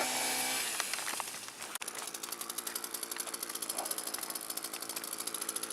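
A chainsaw trimming a tree near a tiny house courtyard, heard as a loud, steady engine roar with a rapid pulsing rhythm, close and continuous throughout, with no talk.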